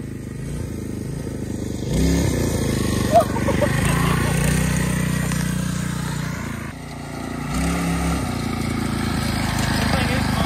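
Scratch-built off-road scooter with a small engine revving hard for a wheelie: a loud, steady motor drone that rises and falls, close, with voices heard partly over it.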